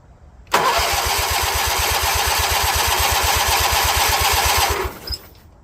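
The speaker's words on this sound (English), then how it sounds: "let's see if we can bump it directly and at least get the engine to turn over" A Kohler KT17 engine on a Bolens 1700H garden tractor cranks over with the ignition disconnected, a fast steady starter churn and rhythmic compression pulses running about four seconds, loud and close, then cutting off.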